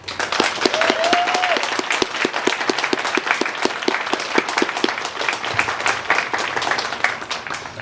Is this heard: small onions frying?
no